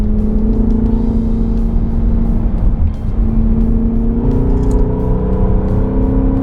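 A BMW E90 M3 driving on back roads, its engine droning steadily from inside the cabin with a rising and falling tone as it pulls through the gears, loud and continuous with no talking.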